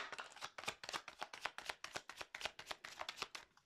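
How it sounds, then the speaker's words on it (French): Tarot cards being shuffled by hand, a rapid train of crisp papery riffles and slaps in a steady rhythm, close and fairly quiet, with no voices. "le temps que je bats les cartes"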